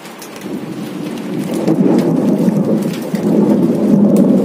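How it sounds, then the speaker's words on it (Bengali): A fierce downpour with hailstones and thunder: loud, continuous rain hammers nearby surfaces while deep thunder rolls build and linger beneath it, growing stronger toward the end, with no voices. "এখন প্রচন্ড বৃষ্টি হচ্ছে, শিলা বৃষ্টি হচ্ছে, শিল পড়ছে।"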